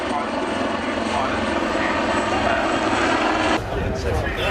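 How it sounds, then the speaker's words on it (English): A Royal Navy Fairey Swordfish biplane with a Pegasus radial engine flies past at the Southport Airshow, its propeller drone loud and steady throughout before easing slightly near the end. "Please welcome the Royal Navy's Swordfish."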